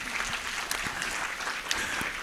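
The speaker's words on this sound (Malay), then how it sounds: "Tepukan untuk Tuan Muhammad Nazri." Continuous audience applause at a town hall session on digital-era fraud crimes, an even wash of clapping from a seated crowd in a hall.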